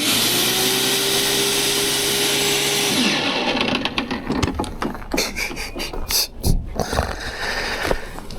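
PowerSmart gas lawn mower, freshly fitted with a new belt and tensioner, running with a steady droning hum that breaks into rougher, uneven clattering bursts.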